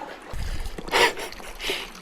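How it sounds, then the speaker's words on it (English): A car pushes through a deep water crossing, with a close rushing splash surging up in the middle and a second smaller wash of water just after. "this deep water crossing that I wasn't expecting"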